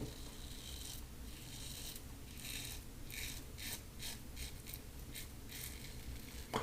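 A Gillette Old Type safety razor scraping across skin on a with-the-grain pass, a series of short, soft rasping strokes repeating at an uneven rhythm, close and quiet.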